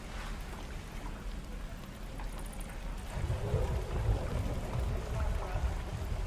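The infernal engine from the video game Baldur's Gate 3 runs with a steady, noisy roar and rumble that grows louder and heavier partway through and then holds.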